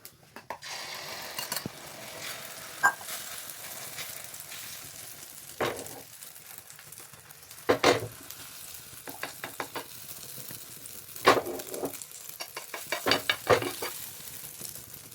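A masala omelette mixture of egg and onion fries on a tawa with a soft, steady sizzle, broken by a few sharp scraping and tapping clicks from a spatula at irregular moments.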